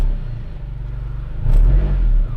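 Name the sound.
Honda Civic engine revving on first start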